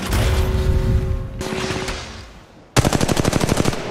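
Automatic gunfire in the Apex Legends Mobile battle royale game, a dense burst of rapid shots after a brief lull, loud and close, with earlier muffled firing and a sustained tone beneath.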